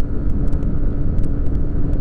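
A Yamaha Fazer 150 motorcycle engine holding high revs in fourth gear, a loud, close, steady drone with faint wind rush and a few brief ticks above it.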